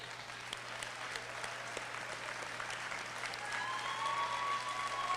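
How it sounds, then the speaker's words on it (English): An indoor audience applauds school district staff, steady dense clapping from a large crowd that swells slightly toward the end, with a few faint cheers. "let's give them applause"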